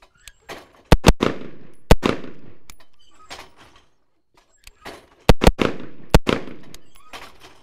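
Rifle shots in a rapid-fire shooting drill: sharp, loud cracks, mostly in quick pairs, separated by short pauses, echoing slightly and fading between bursts.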